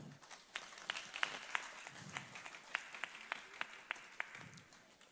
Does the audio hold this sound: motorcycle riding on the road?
no